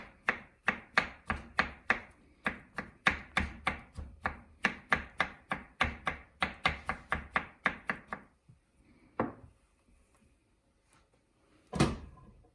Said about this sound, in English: And continue to cut our potatoes.